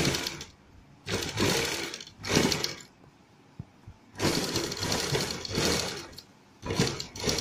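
Sewing machine stitching fabric for sleeves with potli button design, running in several loud bursts of steady mechanical whirring separated by short pauses, close and alone.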